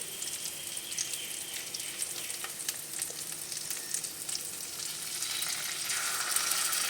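Garlic paste hits hot oil for a tadka, giving a bright, continuous sizzle with scattered pops and crackles that swell slightly toward the end.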